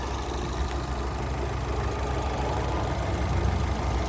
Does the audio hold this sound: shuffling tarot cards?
no